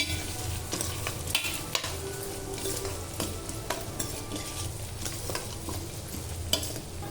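Peanuts frying in a pan of upma base with onions and salt, a steady close sizzle with occasional light stirring scrapes and clinks throughout, no voices.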